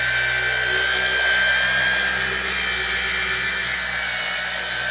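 A PXC polisher works a carbon fiber Eventuri intake plenum for an E92 M3, giving a steady, loud, unbroken electric whine that holds evenly from start to finish with no talking.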